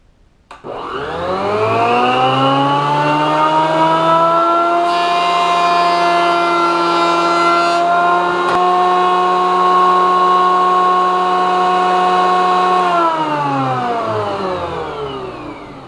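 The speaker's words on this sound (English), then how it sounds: "So we'll edge that up in the planer, and then once we're smooth, we'll glue this on there." An electric wood planer smooths the edge of a wooden tap handle. Its motor spins up into a loud, steady whine with a rising pitch, holds for about twelve seconds, then winds down. No one speaks.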